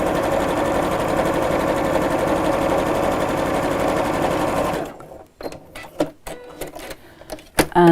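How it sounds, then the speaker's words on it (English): A sewing machine runs steadily and loudly, stitching fabric edges together with a lining, for about five seconds. It then stops, leaving scattered soft handling clicks and rustles. "just matching up the edges of the fabric as we sew."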